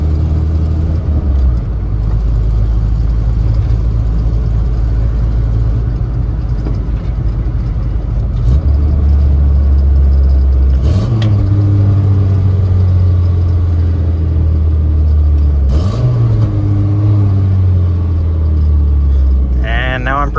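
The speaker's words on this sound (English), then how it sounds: "I find it a lot easier to let the engine do the braking." A manual-transmission car slowing under engine braking, its engine hum steady and close with a couple of pitch steps as revs drop, while someone talks throughout.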